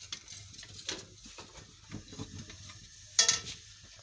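A spoon stirs gram flour batter for bread pakora in a bowl, giving soft intermittent scraping and sloshing strokes, close and fairly quiet, with a sharper clink near the end.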